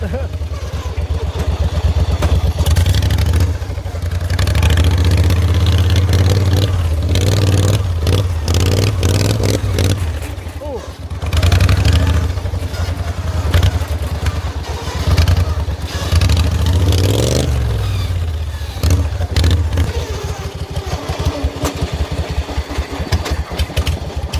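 A hot rod tractor engine roars loudly and continuously as it drives fast, rising and falling through repeated revs with rattling clatter.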